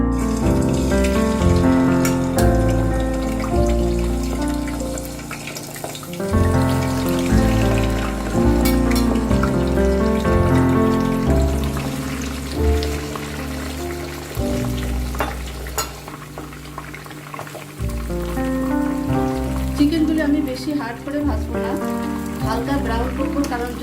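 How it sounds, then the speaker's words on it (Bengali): Chicken pieces for shahi chicken roast frying in hot soybean oil in a pan, a loud, steady crackling sizzle close up, with scrapes and clunks as the pieces are turned, and a voice talking over it in places. "তেলটা আমার গরম হয়ে গেছে আমি এখন আস্তে আস্তে চিকেনগুলি ভেজে দেবো"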